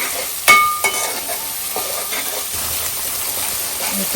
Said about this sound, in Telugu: అల్లం వెల్లుల్లి పేస్ట్ కూడా ఫ్రై అయిపోయింది